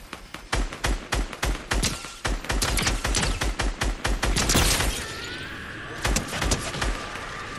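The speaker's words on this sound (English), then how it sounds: "Now he's shooting at me." Gunfire in the video game Fortnite, Chapter 4 solo versus squads: dense bursts of rapid shots and sharp single cracks, loud and close, continuing in short volleys before a brief lull and further shots.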